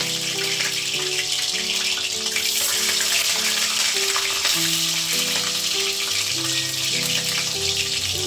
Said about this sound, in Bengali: হালকা করে সবগুলো ভেজে নেব। তেলও আমি দিয়ে দিলাম